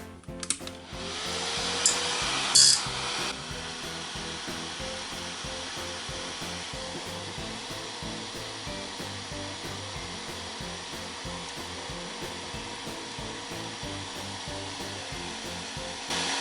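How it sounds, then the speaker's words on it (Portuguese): A 12-volt cooling fan powered from an LM317 bench supply starts with a brief click and clatter, then runs as a steady, close whirring hum that holds evenly to the end. "Vou ligar aqui o cooler."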